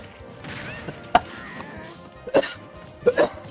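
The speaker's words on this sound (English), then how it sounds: "I was coughing, I missed." A person coughs during a Super Smash Bros online match, giving three short, sharp coughs spaced a second or so apart, fairly close and clear over a low background of game sound.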